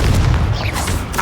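A Confringo blast spell in the Hogwarts Legacy video game lands as a deep, heavy boom with a rumbling low-end burst and a short crackling tail, loud and close.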